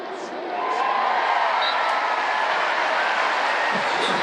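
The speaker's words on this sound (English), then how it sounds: "The crowd's back in it in Chapel Hill" Stadium crowd at a Miami vs North Carolina college football game in Chapel Hill roars and cheers, a broad sustained wash of noise that swells after a quiet start and holds loud to the end.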